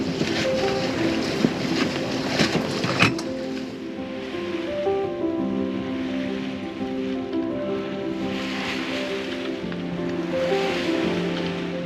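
A sailboat sails south among the islands off Shetland's east coast, with steady wash of sea waves and wind noise all the way through, a low engine-like drone under it, and a short burst of spray or thumps near the start.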